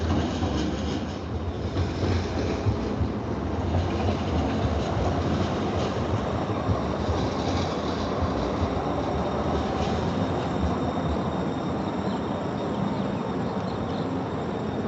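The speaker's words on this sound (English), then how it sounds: "so wait for the train to go." A train rumbles past continuously with a dense, loud clatter of wheels on rails that stays heavy and close from start to finish.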